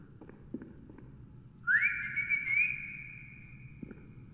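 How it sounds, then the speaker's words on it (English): Someone whistles a single clear, sustained tone that wavers slightly in pitch for about two seconds, close and fairly loud over faint background clicks and game sounds. "I'm just whistling for nothing now."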